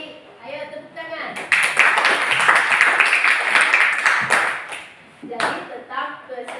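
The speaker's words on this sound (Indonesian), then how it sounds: "Ayo tepuk tangan." A class of children claps together in a lesson, a burst of rhythmic hand clapping lasting several seconds, briefly pausing, then resuming, with voices chanting along over the claps.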